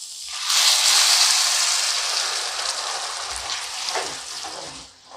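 Hot water is poured into a pot of Gobindobhog rice for pulao, setting off a loud hissing rush that starts abruptly, eases into a steady sputter and fades out near the end.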